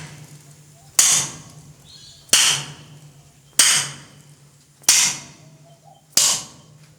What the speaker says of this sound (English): I'm going to hit it with a hammer